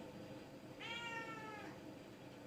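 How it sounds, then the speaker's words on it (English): A cat gives a single drawn-out meow, faint and a little distant, over a quiet background hum. "she'll magically appear from somewhere meowing"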